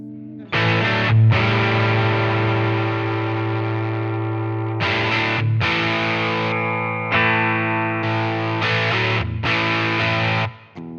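Electric guitar played through an amp recreation pedal into an amp, heavily distorted sustained chords in several long strummed phrases with short breaks between them, loud and alone with no talk.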